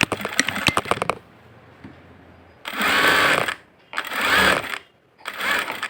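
Sewing machine stitching a blouse in close bursts: a short rapid rattle at the start, then three loud sustained runs of stitching separated by brief pauses.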